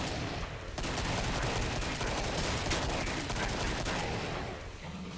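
Sustained rapid gunfire in the video game Killing Floor, a dense, loud barrage of overlapping shots and bursts continuing almost without a break before easing off at the end.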